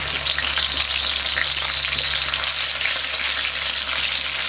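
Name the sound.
sauce poured into hot oil, sizzling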